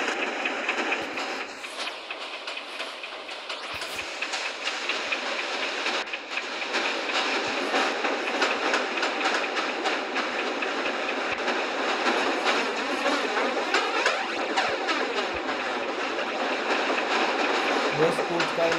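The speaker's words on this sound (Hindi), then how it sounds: "लगता है इसकी फुल स्पीड पे चल रही है ट्रेन, फुल स्पीड 100 के आसपास चल रही है।" A train in Indian Train Simulator runs at full speed, around 100, with a steady, dense rolling rumble and rail noise that continues unbroken throughout.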